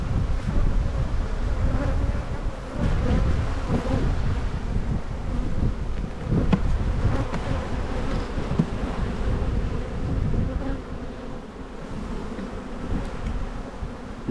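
Agitated honey bees swarm and buzz around backyard hives that were restocked with frames from another hive, a dense, steady drone that stays loud throughout with wind gusting across the microphone.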